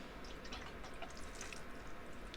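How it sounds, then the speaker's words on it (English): Water is poured onto mulch over a transplanted corn plant in a container, producing faint, soft trickling and dripping with scattered small splashes at low volume. "And then I'm going to give it some water."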